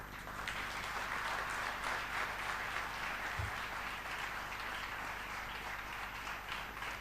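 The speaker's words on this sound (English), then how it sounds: "let us all give a big loud of applause to them" Sustained applause from an audience at a college graduation and convocation ceremony, honoring parents and grandparents; dense, steady clapping from a large crowd held at an even level throughout, with a brief low thump partway through.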